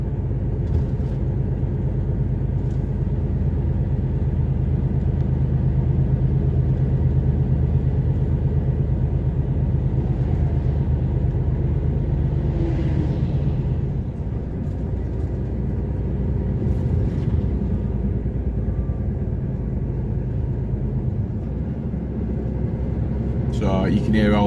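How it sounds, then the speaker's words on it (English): Cab-interior drone of a truck engine in active cruise with an automatic gearbox, a steady low rumble with slight shifts in pitch and load as throttle and gears change over about twenty-five seconds. "So you can hear all the throttle adjustments and gear changes there."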